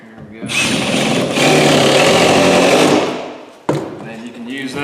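A power driver sends a screw into a floor board, a sustained whirring drive of about two and a half seconds that winds down, then a sharp knock and lighter handling noises follow close by.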